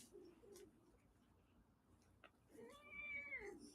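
A pet cat named Elvis gives a faint, drawn-out meow near the end, following softer mewing sounds over a quiet indoor background.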